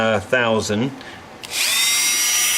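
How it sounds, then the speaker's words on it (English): A rotary tool with a sanding drum, turned down to a reduced speed, whirs up to a steady high whine for scalloping a Loar-style mandolin after a man's brief speech. "Most of these sanding drums are a little bit out of balance and everything, so I always turn the RPMs down."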